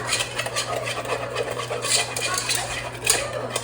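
Flour and butter are whisked together in a home kitchen, giving a steady run of quick metallic scraping and clinking against the bowl, fairly close and moderately quiet.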